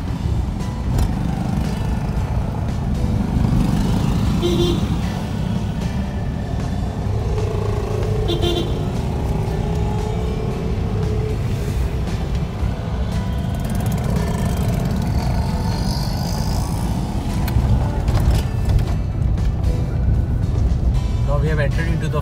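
A car climbing the road up to a fort in Hyderabad, its engine droning steadily from inside the cabin throughout, with people talking over it.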